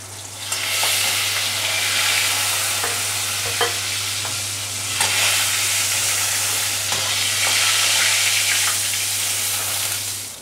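Pointed gourd (potol) fries in hot oil in a wok: a constant close sizzle with repeated scraping clicks from stirring, over a low steady hum, and no speech.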